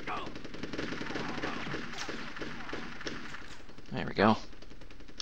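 Rapid machine-gun-style fire from Army Men: Sarge's Heroes on N64, with a tank nearby, sounding as a dense crackling burst over several seconds. Someone speaks briefly near the end.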